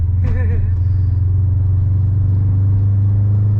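A Subaru STI with a new mod is driven, its engine making a loud, steady low rumble from inside the car, with a voice briefly heard over it at the start.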